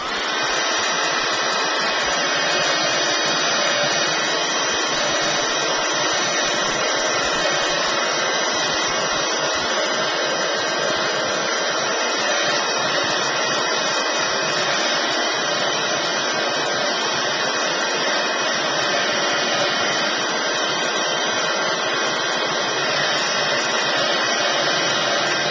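Hair dryer blowing steadily on mixed media paper brushed with gesso, a loud, close, unbroken whoosh of air and motor that runs the whole time with no pauses.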